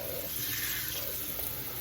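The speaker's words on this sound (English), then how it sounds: "let's just rinse these with some cold water" Cold tap water runs steadily from a faucet into a sink, rinsing cooked peppers, a continuous close-up splashing rush with no pauses.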